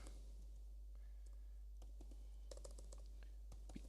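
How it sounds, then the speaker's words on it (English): Typing on a worn, poor-quality computer keyboard during serial terminal testing, with sparse scattered key clicks early that build into a denser run of quick taps toward the end, close and fairly quiet over a steady low hum. "Be cool if my keyboard didn't suck."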